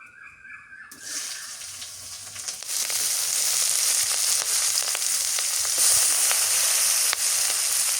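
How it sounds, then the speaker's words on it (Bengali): Green chili and chopped onion hit hot oil in a kadai, and a loud sizzle bursts in after a quiet start. It swells into a strong, continuous, close crackle and keeps going to the end. "কাঁচা মরিচ আর পেঁয়াজ কুচি দিয়ে দিই।"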